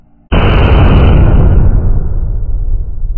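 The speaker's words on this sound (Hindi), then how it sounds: "ये रहा सुपर नीलम ब्रांड का सुपर शॉट बुलेट है ये" A Super Neelam brand Super Shot Bullet firecracker goes off in a single loud, sharp blast after a brief quiet moment, followed by a long rumbling decay that fades over about three seconds.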